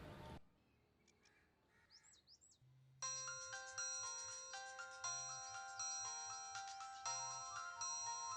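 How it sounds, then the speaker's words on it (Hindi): A phone ringtone starts after a brief pause and plays a repeating electronic melody, loud and close, with short honking and chirping tones before it in a quiet room. "फोन बज रहा है।"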